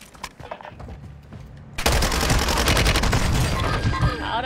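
Loud video-game gunfire and a mortar strike: a quiet stretch of scattered shots, then a sudden dense barrage of rapid automatic fire and blasts that keeps going to the end.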